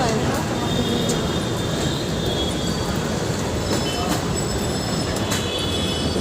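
A Delhi Metro train rumbles steadily with broadband roar and faint rhythmic clatter, loud and continuous from start to end, with occasional squeaks.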